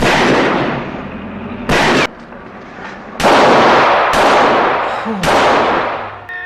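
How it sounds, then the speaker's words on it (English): Gunshots from the 1974 film Chinatown ring out as several sharp, loud broadband bangs spaced a second or so apart, each decaying quickly over a busy background of film sound. "Shot through the eye."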